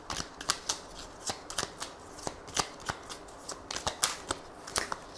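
Oracle cards shuffled for an angel-message reading, giving a steady run of quick papery flicks and snaps, close and fairly quiet, with no talking.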